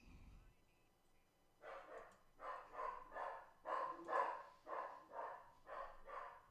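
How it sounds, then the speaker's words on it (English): Dog barking indoors in a steady series of about eight or nine sharp barks, somewhat distant and moderate in loudness, after a brief quiet start. "That's not normal barking."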